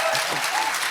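Audience clapping at a live podcast taping, steady and dense throughout the short burst with no break.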